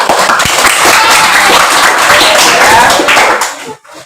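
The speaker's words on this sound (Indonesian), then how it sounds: "sekali lagi tepuk tangan yang meriah" Loud, energetic clapping from a classroom of students, a dense burst of hands close by that lasts about three and a half seconds before cutting off abruptly.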